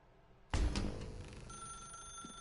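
An old telephone in The Stanley Parable video game starts ringing abruptly after quiet, a bright, loud ring that rings out and decays into a sustained tone, heard alone without voices.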